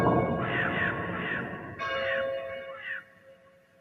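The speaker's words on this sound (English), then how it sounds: "opening of a grave with a background church bells and crows." Moody game sound effect for Suicide Squad: Kill The Justice League: church bells toll with ringing, decaying strikes over a low rumbling ambience while a few crows caw, marking a grave being opened.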